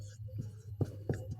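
Pen or pencil strokes on paper while working a Class 10 real-numbers maths exercise, a few soft scratchy bursts close by over a faint steady hum.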